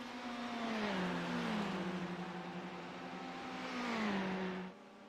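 Race cars lapping in a sim racing game at Le Mans, a smooth engine drone rising and falling in pitch as one car accelerates, shifts and pulls away, steady and fairly close with no voices.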